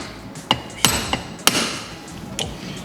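Several sharp, separate taps of a brass hammer on engine block parts while a VQ35DE short block is built up, loud and close, the blows spaced irregularly with short ringing decays.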